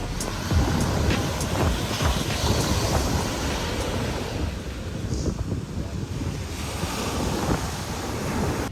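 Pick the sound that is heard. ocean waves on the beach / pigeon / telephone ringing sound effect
ocean waves on the beach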